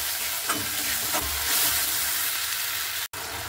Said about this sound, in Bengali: সবগুলোকে দিয়ে ভালো করে একটু কষিয়ে নিতে হবে